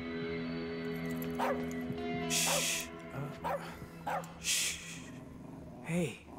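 A dog in the video game As Dusk Falls gives a few short yips and barks followed by a whimper. Each sound is brief and scattered across several seconds over steady game ambience.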